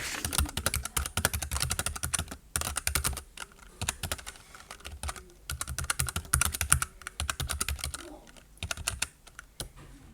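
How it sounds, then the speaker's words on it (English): Fast typing on a Keychron K3 mechanical keyboard with red switches, a dense run of soft, close keystrokes in quick bursts with brief pauses between. "The good thing with red switches is that they are actually really quiet. They don't click or clack like the other mechanical keyboards"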